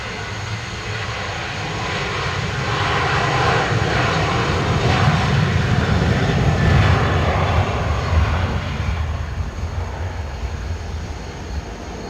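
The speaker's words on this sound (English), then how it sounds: "Ryanair to Stansted, already rolling" Ryanair jet rolling for takeoff at Dublin Airport, engine roar building from a distance, swelling loud in the middle, then easing as it moves away.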